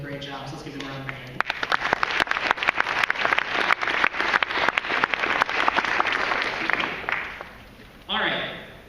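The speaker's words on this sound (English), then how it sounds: "let's give them a round of applause" An audience at a spring keynote address breaks into loud, sustained clapping after a brief spoken introduction, the applause lasting several seconds before fading as a speaker resumes talking.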